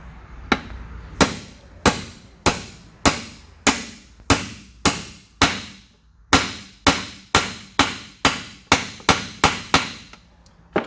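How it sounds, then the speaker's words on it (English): Metal bearing race driver hammered to seat a bearing in an NV231/NP231 transfer case during a rebuild: about twenty sharp, ringing close-up strikes in a steady rhythm, each decaying quickly, alone without speech. "take our bearing erase driver and just tap it in until it bottoms out"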